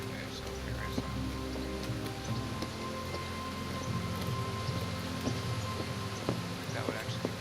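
Rain in the video game Kingdom Come: Deliverance falls as a steady patter of drops on surfaces, with scattered sharper drips over a soft continuous hiss, even and moderately loud.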